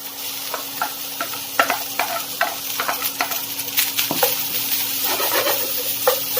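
Boiled arborio rice is tossed and stirred with sautéed vegetables in a hot pan, with an even sizzle beneath repeated scraping and clinking strokes of a spoon, close and steady, no talking.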